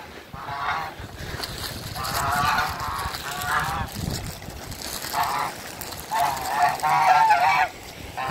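Geese or ducks at a pond honk in repeated bursts while waiting to be fed, calling in clustered volleys at moderate distance over light wind and outdoor background.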